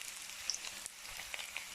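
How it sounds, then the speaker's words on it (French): Faint, soft sizzle of onions frying in a little oil in a pan, with a few tiny pops over a gentle hiss. "On fait revenir dans une poêle avec un peu d'huile"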